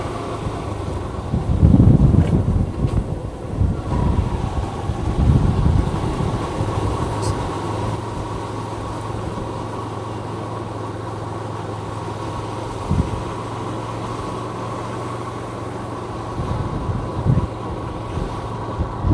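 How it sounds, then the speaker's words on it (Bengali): Strong wind sweeps across the open field of Batashi Park, a steady roaring rush that buffets the microphone with heavier gusts early on, while faint voices come through now and then. "বাতাসি পার্কে নাকি অনেকটা বাতাস হয়, দেখি কতটা বাতাস হয়"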